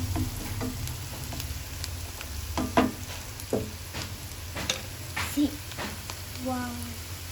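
Vegetables frying in a home kitchen pan get stirred with turmeric, scattered scrapes and clinks of the spoon over a soft, steady sizzle, with a voice talking briefly near the end.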